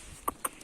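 Two short, faint clucks from a chicken on a farm, about a beat apart, against quiet background hiss.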